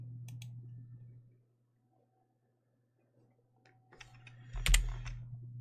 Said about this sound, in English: It's a Harma keyboard.